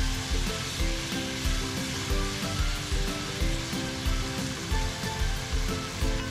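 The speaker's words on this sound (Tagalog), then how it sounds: "Haluin natin ulit para mag-mix sila." Pork chop, carrots and vegetables stir-fried with oyster and hoisin sauce, a loud continuous sizzle with rhythmic scraping strokes repeating about once a second, close and steady.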